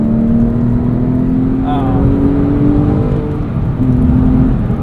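Interior of a 2009 Porsche 911 Carrera 4S on the move, its engine holding a steady hum that rises slightly in pitch, with a brief whine near the middle and a voice talking over it.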